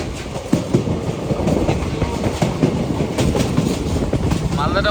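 The 13432 Nabadwip Dham Express runs between Malda Town and Azimganj Junction with a loud, steady roar of wheels on rails and faint rhythmic clatter, heard from inside the moving train.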